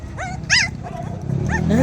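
Two brown puppies yip and bark in short, high, bright bursts, a few sharp calls close by with brief whimpering tones between them.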